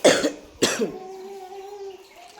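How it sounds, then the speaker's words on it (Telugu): Two sharp coughs in quick succession, close and loud, followed by a faint lingering tone. "ఈ దగ్గు తగ్గడానికి ఏమైనా టిప్స్ ఉంటే చెప్పుర్రి"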